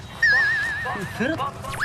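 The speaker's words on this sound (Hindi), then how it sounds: "देख कितने सारे पिल्ले" A group of puppies give high, wavering whimpers and short yips close by, one sustained whine followed by quicker squeaky cries.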